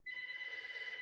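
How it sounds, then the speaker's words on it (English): A phone rings some distance away, a faint steady electronic tone with a slight pulsing flutter that sustains for about a second in an otherwise quiet room. "I'm sorry, my phone ringing, it's pretty far."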